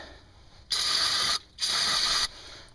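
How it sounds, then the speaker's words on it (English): Silicone spray hisses onto the rubber piston boot of a front brake caliper on a Mercedes W202 C230, in two close, loud bursts of under a second each, separated by a short pause. "I'm going to be spraying it with some silicone just to keep it nice and subtle so it doesn't crack or break"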